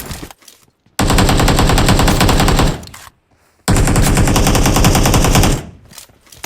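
Two long bursts of rapid automatic gunfire, each a couple of seconds, separated by a short pause, loud and close in a game.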